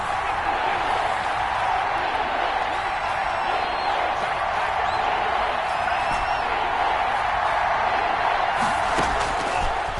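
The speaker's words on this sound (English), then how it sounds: "Crowd getting in it a bit already." A stadium crowd at a divisional-round football game roars steadily, a dense, continuous wall of noise with no letup, heard from within the stands.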